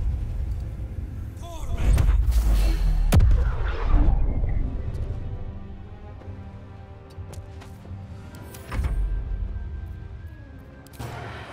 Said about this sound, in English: I'm gonna do a magic missile.